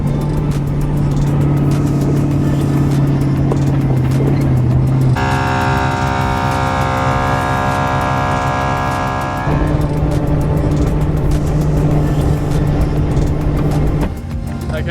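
A 4WD vehicle drives steadily on a night run, its engine a continuous close drone with a harsher, more strained stretch partway through before settling back to an even hum.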